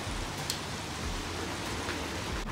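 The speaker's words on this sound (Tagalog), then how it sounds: "Umuulan." Steady rain falling outdoors, a constant broadband wash of patter with no breaks, fairly soft and even throughout.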